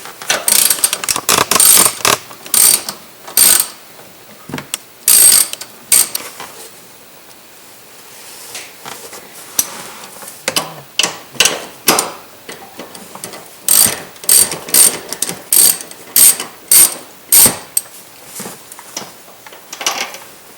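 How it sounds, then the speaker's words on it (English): Wrench ratcheting rear seat bolts loose on a BMW E36, close and loud, in repeated bursts of rapid clicking separated by short pauses. "Remove the rear bolts with the same size wrench."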